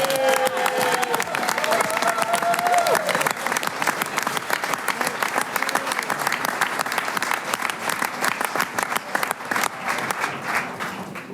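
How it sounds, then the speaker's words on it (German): Audience applause at a Swiss folk-music choir concert, the Mittsommergsang 2024 at Agrino Weidhof. Dense, sustained clapping fills the whole stretch, with a few voices showing faintly near the start. "Ja, grossen Applaus für den Dario"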